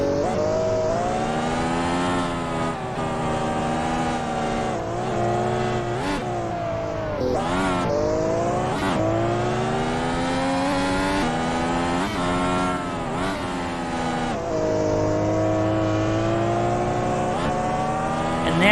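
A race car accelerates hard around the Belle Isle street circuit in Detroit during an ASRA National Championship round, its engine screaming loudly and steadily through rising and falling revs with brief gear-change dips, close and continuous.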